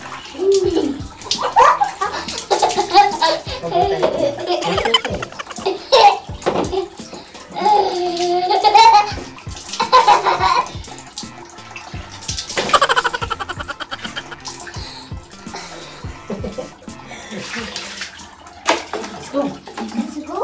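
Water runs steadily from a tap as a three-year-old boy washes at home, a continuous splashing rush heard throughout while a child and an adult chatter over it.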